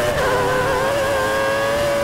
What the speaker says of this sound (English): Oh, big lock up as we go in on the power again.